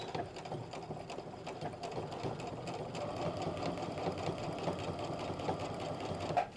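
A sewing machine back stitches a seam on pull-on pants with a steady, fast mechanical whir and needle chatter, running continuously and fairly close.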